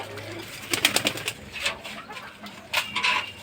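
Pigeons in a wooden pigeon house giving low soft coos and short sharp calls, close and moderately loud over a light rustling background.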